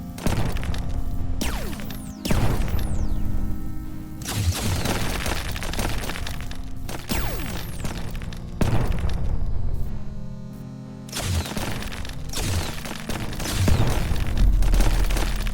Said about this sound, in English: don't use the side guns. They bounce off the walls and they're hitting me